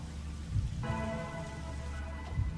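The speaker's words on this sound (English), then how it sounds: "It's a gentle rain, protecting us." Gentle rain falls steadily in the game Rain Code Plus, a soft continuous patter under low ambient tones, with a few slightly louder drops.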